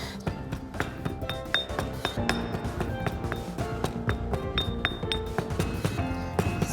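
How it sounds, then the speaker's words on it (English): Dry-toasted desiccated coconut being pounded into a paste with a mortar and pestle in a kitchen, a steady run of sharp, clinking knocks, close and fairly loud, with no talking. "what I'm going to do is pound this into a paste"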